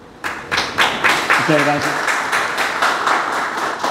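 An audience at a Dominican philosophy congress in Santo Domingo bursts into steady, moderately loud applause that continues to the end, with a voice briefly speaking over the clapping.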